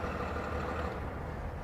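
Freightliner M2 106 Summit Hauler truck engine running just after starting, a steady low idling rumble throughout.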